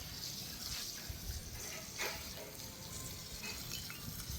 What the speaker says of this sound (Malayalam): ഇതാ ഈ വെള്ളം നമുക്ക് ഒഴിച്ചു കളയാം.